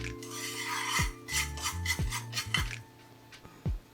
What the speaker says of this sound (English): I'm going to toast sesame seed, like low heat.